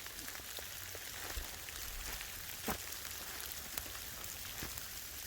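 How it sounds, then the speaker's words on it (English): Rain and sleet fall steadily outdoors at a winter hammock campsite in a forest, a soft continuous patter on surfaces with a few sharper drop hits, faint and fairly close. "It's starting to sleet, snow, rain, everything right now."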